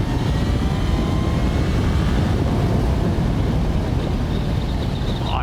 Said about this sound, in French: t'as le moteur qui vibre, t'as la moto qui travaille